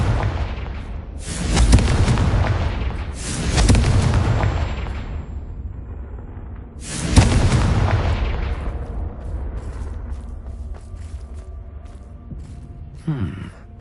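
The Confringo explosion spell in the game Hogwarts Legacy goes off as three heavy booming blasts a few seconds apart, each trailing into a rumbling decay, loud and with no talk.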